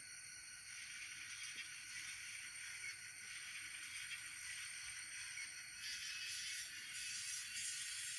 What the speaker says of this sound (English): Hear that flange squeal again.